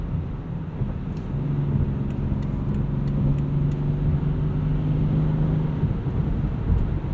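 Inside a 2017 BMW X5 xDrive35d diesel cruising at 70 mph around 1700 rpm, a steady low engine drone and road rumble, with faint ticking clicks above.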